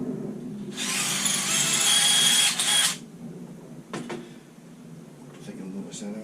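A power drill enlarges holes in a guitar enclosure, a bright sustained whir lasting about two seconds, followed by brief tool clicks and handling noise, with a voice talking faintly nearby.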